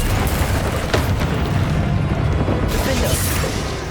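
A Confringo blasting spell explodes during combat in Hogwarts Legacy. Loud, dense booming and crackling fill the whole stretch with little pause, and a few brief higher bursts rise over the rumble.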